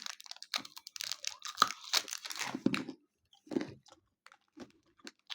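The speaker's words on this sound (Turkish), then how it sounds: "Dur bir ısırık alayım." Crunchy food crackles as someone takes a bite and keeps chewing, a close run of irregular crunches, then a short pause and a few quieter chews.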